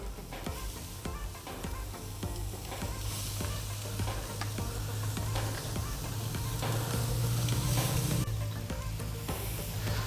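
Squid tubes laid in a neat row on a hot grill hiss and sizzle steadily and fairly loudly, a dense crackling wash with scattered pops and no talking.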